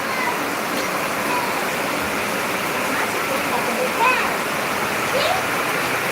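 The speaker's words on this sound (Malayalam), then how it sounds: "മഴയാ ഭയങ്കര ശബ്ദം മഴയാണ്" Heavy rain pours down in a continuous, dense roar that stays loud and even throughout, with faint voices partly buried in the downpour.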